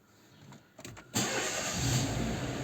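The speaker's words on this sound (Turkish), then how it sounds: "bu araba tek marşta çalışmıyor" A Renault Megane 2 with an injection fault cranks briefly in a few uneven bursts, stalls, then catches and settles into a loud, steady, slightly rough idle close to the microphone.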